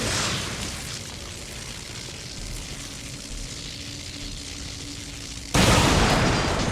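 Steady hiss and low rumble from the XCOM 2 War of the Chosen battlefield, then a sudden loud blast from a blaster launcher grenade detonating near an explosive barrel, holding at full roar to the end.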